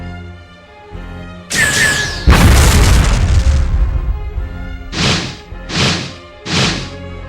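Explosions in the video game Code Geass Lost Stories during a city battle: a sharp whoosh, then a heavy rumbling boom, followed by three shorter bursts in quick succession.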